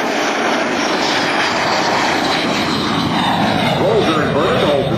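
An aerobatic airplane dives toward show center at an airshow, its engine giving a loud, steady roar that swells slightly as speed builds. An announcer talks over the engine noise.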